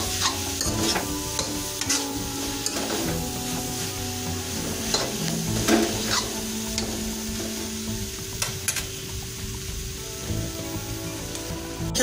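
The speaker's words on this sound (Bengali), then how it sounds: "গুঁড়ো মশলাগুলো যোগ করার পর আমরা প্রায় মিনিট ধরে কষিয়ে নিয়েছিলাম কপিটাকে।" Shredded cabbage with ground spices stir-fries in a wok for a Bengali cabbage dish with rohu fish head, producing a loud, continuous sizzle with repeated scraping stirs and light spattering, close and without talk.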